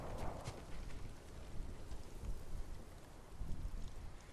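Rain falls in the video game Ghost of Tsushima, a faint, steady hiss of drops with soft irregular patters, quiet and continuous in the background.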